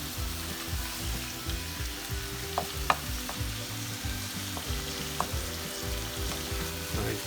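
Shrimp fry in a pan while being prepared for camarones a la diabla, a steady close sizzle with occasional sharp pops and the scrape of stirring, with no one talking.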